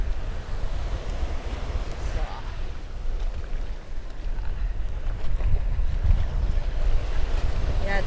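Continuous wash of surf and wind roaring steadily on a sandy beach at Punta Cana, with low rumbling water noise and microphone wind buffeting, no clear speech.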